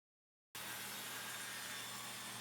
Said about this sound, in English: Then it was time to cut the 45-degree miter.